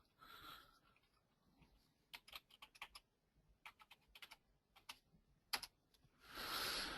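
Password being typed on a computer keyboard in quick bursts of crisp keystrokes, close and clear, with short pauses between clusters and a brief breathy noise at the start and end.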